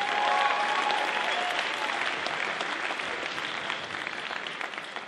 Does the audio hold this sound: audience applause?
yes